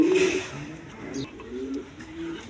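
Soft, low pigeon cooing from quality breeds rises briefly at the start and then continues as faint murmuring phrases with a little distant background noise.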